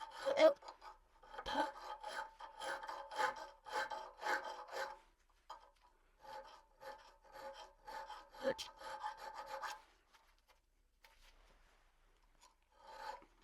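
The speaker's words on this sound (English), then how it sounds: "I figured I'd get this ricasso filed out" A hand file rasps across the ricasso of a Damascus integral-guard hunter knife blade, bursts of quick rhythmic strokes separated by short pauses, close and moderately quiet, no talking.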